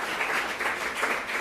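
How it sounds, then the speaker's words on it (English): A short burst of audience applause at an evening event, dense even clapping heard up close for just over a second. "so we might give them a round of applause, I think."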